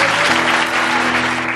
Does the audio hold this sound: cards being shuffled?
no